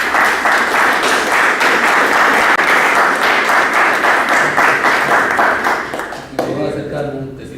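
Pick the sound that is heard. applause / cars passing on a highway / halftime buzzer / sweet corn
applause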